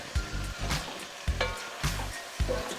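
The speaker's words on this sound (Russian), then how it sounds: "Ну и вот так вот перемешивая, ждем, пока наши помидоры превратятся в соус" Tomatoes fry in lamb fat in a kazan while being stirred, a steady close sizzle broken by four rhythmic scraping strokes of the utensil against the pot.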